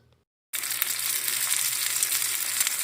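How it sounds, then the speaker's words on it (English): Loud, steady sizzling of pork patties frying in a pan, kicking in abruptly after a brief quiet moment and crackling continuously to the end. "we get the sizzle on with the pork McRib type patties"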